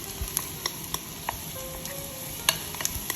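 Baby portobello mushrooms fry in a Staub cocotte with a steady close sizzle, broken by scattered sharp ticks and scrapes of stirring, with no voices.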